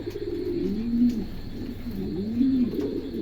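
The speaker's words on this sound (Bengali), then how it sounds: "বেবি সহ রানিং কবুতর বিক্রি" Pigeons at a bird market, including Bokhara pigeons, coo in two drawn-out, rolling phrases close to the microphone over a low background hum.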